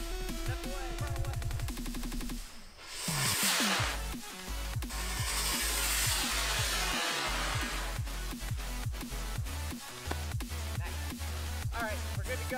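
A small spark rocket fires from a makeshift launch rig outdoors, giving a loud sustained hissing roar that builds and fills the whole stretch, followed by sharp crackling pops and bangs.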